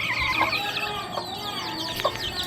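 Chicks about 25 days old in a cage cheep and cluck in quick, overlapping chirps, a small flock heard fairly close with no talking.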